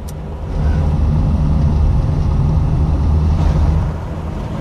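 A Triumph 2500 MK I car held in third gear, its engine droning steadily with a low, even hum and road noise close by, rising slightly in level after the first half second and easing near the end.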